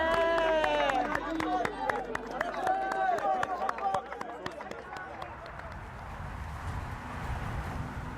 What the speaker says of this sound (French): Vous allez applaudir tout le monde.